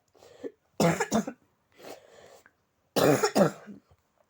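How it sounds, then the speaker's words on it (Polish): Several harsh coughs come in separate bursts, close and loud, with short silences between them and a throat-clearing quality, heard alone without talk over them. "Cóż za kaszel."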